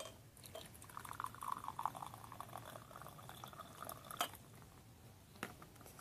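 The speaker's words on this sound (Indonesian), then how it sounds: "Dengan cara menuang airnya itu langsung ke dalam gelas." Water poured straight into a glass, a steady trickling stream rising in pitch as it fills, followed by a few clinks and small handling sounds, close and without talk.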